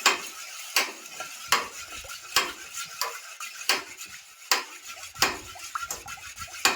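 Cake batter stirred by hand in a bowl for an eggless, oven-free cake cooked in water: close, rhythmic scraping strokes with a sharp clink against the bowl roughly every three-quarters of a second, with no talking.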